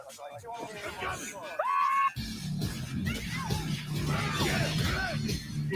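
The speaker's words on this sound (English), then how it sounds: "let's just go back to Barry Allen, the Flash, screaming like a woman when he sees Zangief" A cartoon character screams in fright, a sharp rising shriek lasting about a second, loud and close, followed by noisy, chaotic vocal commotion and yelling.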